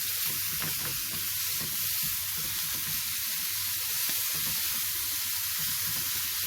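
Thinly sliced chicken liver hits a hot pan with onions and sizzles loudly and continuously, with soft scraping and stirring knocks throughout and no voices.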